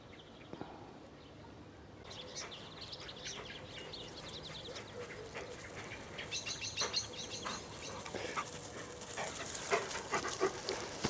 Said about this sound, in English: there we have the dogs